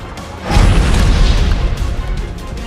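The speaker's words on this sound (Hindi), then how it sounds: "तबरिज में धमाके की गूंज सुनाई देने लगी।" A deep, rumbling boom from air strikes swells up and rolls on like a distant explosion echoing, a sustained low roar that slowly fades.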